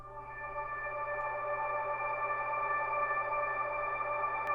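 Sustained piano notes drenched in reverb through an ambient effects channel, forming a steady, shimmering wash of held tones with no voices present.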